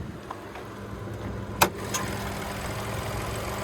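A 1.3-liter turbocharged three-cylinder engine in a 2026 Chevy Trailblazer LT idles steadily in the open engine bay, a low even hum with a couple of brief sharp clicks partway through.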